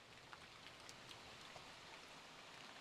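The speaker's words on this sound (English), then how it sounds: "the rain falls through the gap in the roof above me" Steady rain falls through a gap in a roof in woodland, a soft continuous wash with scattered faint drip ticks, fairly quiet and with no voices.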